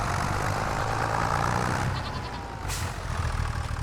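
Mountain goats in a farming video game bleat faintly against a steady, rumbling background hum, with a brief bright burst of noise partway through.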